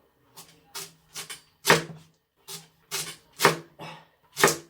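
A knife cuts through radish on a cutting board for water kimchi, about ten crisp, distinct chops in an uneven rhythm, close and clear with quiet gaps between them.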